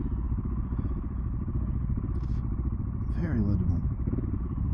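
An Aprilia Tuono 660 Factory motorcycle rides along with a steady, continuous engine drone and wind rumble throughout, with someone talking over it.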